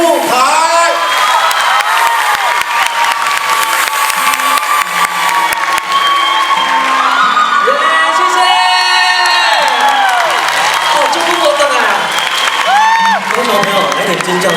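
A large crowd at a Taiwanese-song concert in Kaohsiung cheers, whoops and applauds loudly and without pause, with shrill screams and shouts over steady clapping while an announcer's amplified voice cuts through.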